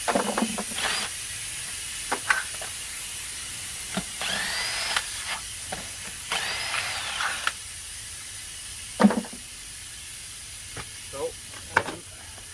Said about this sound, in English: as the air come out